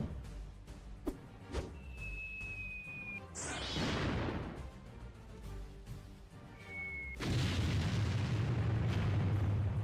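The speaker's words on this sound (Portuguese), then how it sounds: "Essa explosão?" A series of booming anime explosion blasts and bursts, with a rising whoosh and a large roaring explosion that lingers at the end, heard fairly quietly.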